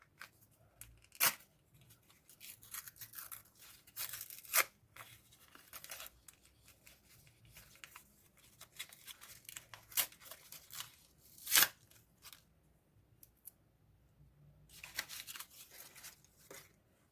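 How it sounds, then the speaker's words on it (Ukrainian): Sharp crinkly tearing bursts of a plastic Kinder Surprise packet, several separate rips spaced out among quieter rustling, close and fairly loud. "Відкриваємо такий пакетик."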